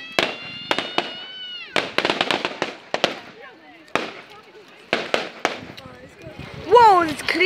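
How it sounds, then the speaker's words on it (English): More fireworks explode at an outdoor bonfire display, irregular loud bangs and crackles with whistling tones between them. A cat meows in the background, and a rising whistle closes the sequence. "There's more fireworks going on."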